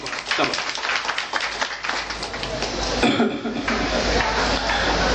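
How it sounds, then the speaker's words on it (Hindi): Sustained applause from a crowd at an honor ceremony, dense clapping that builds and stays loud for several seconds, with some murmuring underneath. "जोरदार तालियां एक बार"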